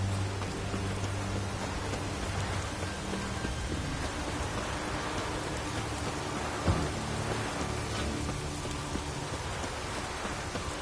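Continuous rain in a video game hisses steadily and fairly loudly throughout, with a faint rumble of thunder underneath and no voices.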